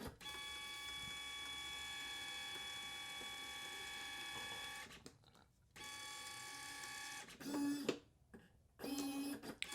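A label printer feeds and prints two half-cut labels, giving a long whirring mechanical run with a steady tone, then a pause and shorter ratcheting bursts as the cutter works.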